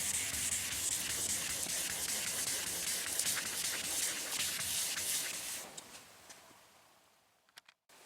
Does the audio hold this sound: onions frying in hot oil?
no